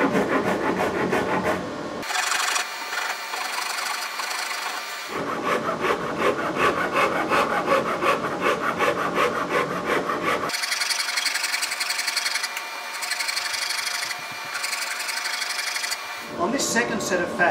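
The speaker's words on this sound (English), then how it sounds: "On this second set of facets, the curved rasp can leave some fairly chunky tooth marks." Curved rasp and file carving a wooden guitar neck, bursts of rapid rough scraping strokes separated by brief pauses, close and fairly loud.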